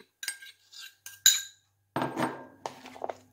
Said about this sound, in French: Je mélange bien tous les ingrédients